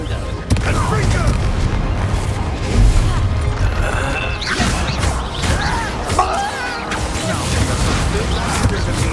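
Spell explosions from the Confringo fire spell during a troll fight in the video game Hogwarts Legacy, heavy booming crashes over a loud, dense battle soundtrack, with shouting voices mixed in.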